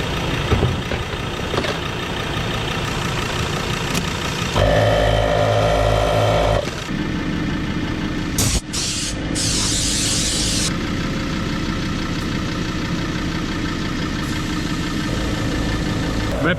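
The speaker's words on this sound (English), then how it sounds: "So I'm just gonna pump my tyres back up now." A compressor pump inflates car tyres on a 4WD road trip along the Gibb River Road in the Kimberley, running as a steady loud mechanical drone with a brief pause and a hissing burst partway through.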